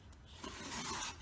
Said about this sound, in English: I'm going to start by trimming it where I want the edge